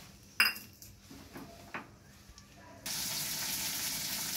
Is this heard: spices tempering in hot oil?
yes